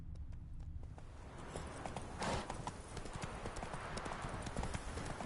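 Hooves of Roach, a horse in The Witcher 3, clop steadily on the ground in a quick, even rhythm, close and clear, with no voices.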